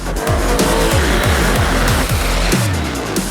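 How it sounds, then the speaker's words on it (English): A 2019 Ducati Diavel 1260 S with its DVT engine accelerates hard, the exhaust note climbing in repeated rising sweeps through the gears, loud and close with no talking. "So every time you open the gas, boom, off you go."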